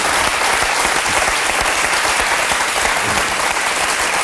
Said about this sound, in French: Ça s'applaudit, ça, Nicolas.